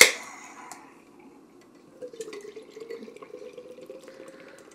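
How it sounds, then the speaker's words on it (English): Southern Tier Nitro Crème Brûlée beer pours into a glass after a sharp opening clink, with a soft, trickling, bubbling stream close by and no talk over it. "I'm just going to pour it all in mine."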